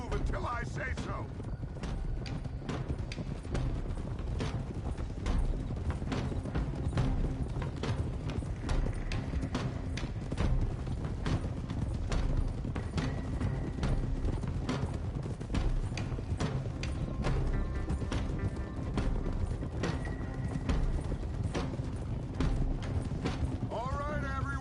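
Horses trot with steady clip-clop hoofbeats through a Red Dead Redemption 2 game scene, a continuous rhythmic patter at moderate loudness beneath game music and occasional voices.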